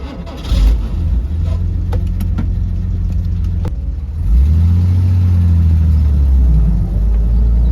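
A 1971 Jaguar XKE with a 4.2-liter inline-six runs with a steady, close engine rumble that grows louder and deeper partway through as the car pulls away and drives on. No one speaks.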